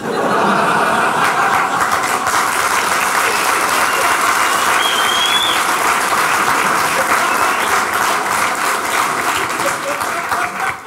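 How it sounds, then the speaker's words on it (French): A theatre audience applauding: a loud, sustained wash of clapping from a large crowd that runs unbroken for about eleven seconds, with scattered laughter and chuckles mixed in. "Qu'est-ce que c'est que ce bruit que j'entends Les applaudissements de qui Le public"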